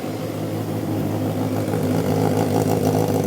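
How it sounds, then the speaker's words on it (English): A go-kart with a Corvette engine and a 4-into-1 exhaust runs steadily and loudly up close, its rough, choppy drone building slightly toward the end. "Our first 4-into-1 exhaust, and it actually sounds pretty nice."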